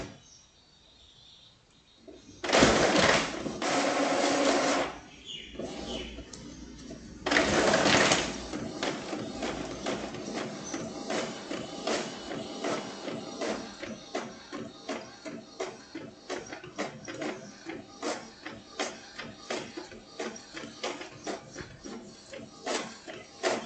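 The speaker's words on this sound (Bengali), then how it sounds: "একটা প্রিন্ট দিই, দেখি কেমন আসে।" A printer runs off a Sonali Bank payment slip: two loud bursts of whirring feed, then a long run of rapid, regular mechanical clicks and ticks from the print head.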